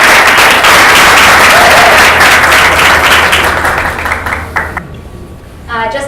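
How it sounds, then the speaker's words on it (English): A seated audience bursts into sustained applause for an entrepreneur and investor at a business talk, loud dense clapping that swells and then thins out before a voice begins speaking. "let's give him a round of applause"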